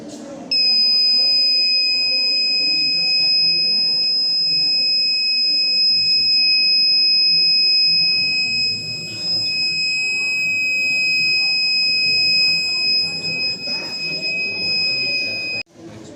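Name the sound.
buzzer of school science fire alarm model sounding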